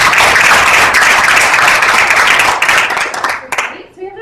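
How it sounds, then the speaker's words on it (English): A town hall audience applauds, dense loud clapping that continues steadily before thinning out into a few scattered claps and a voice at the end. "we should amplify those claps"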